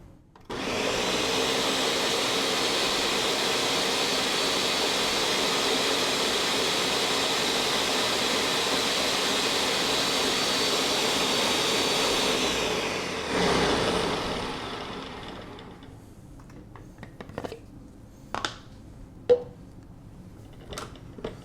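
Ninja Mega Kitchen System blender on its crush setting roars loudly and steadily at close range for about thirteen seconds, then cuts off, leaving a few sharp knocks and taps.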